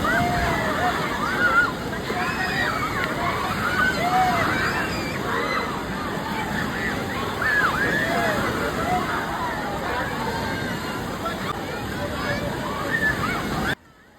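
Continuous sloshing and splashing of water in a pool, fairly close, with children's voices and shouts mixed in throughout.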